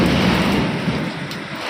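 Steady rain pours during a lightning storm on a rooftop, with a low rumble of thunder rolling underneath, loud and continuous throughout without any voices.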